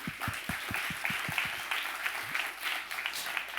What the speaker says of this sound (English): I propose a big round of applause for them.